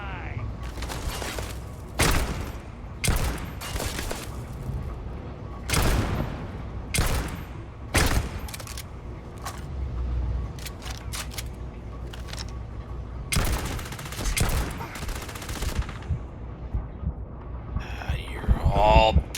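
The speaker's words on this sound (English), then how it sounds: "would you stop throwing grenades?" Grenades and gunfire in a Starfield firefight: a string of sharp, loud gunshot bursts and explosive blasts in irregular clusters, with a voice murmuring underneath.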